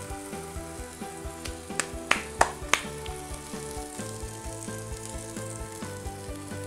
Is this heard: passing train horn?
no